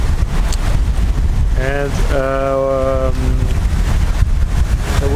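Wind blows across a sailboat at sea in the Mediterranean between Menorca and Sardinia. It sounds like a loud, continuous low buffeting rush, with a person briefly speaking over it.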